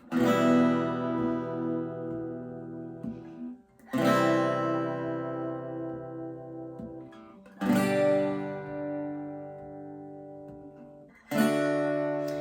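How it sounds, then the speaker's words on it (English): A guitar plays chords with one full strum per chord, four ringing strums each left to sustain and fade before the next, played alone and close. "So you can do 1 strum per chord"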